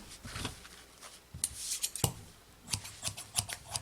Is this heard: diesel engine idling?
no